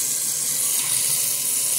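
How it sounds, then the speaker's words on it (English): Tap water runs steadily into an Anchor glass dish, a continuous close hiss and splash with no other sounds. "fill this up with some water"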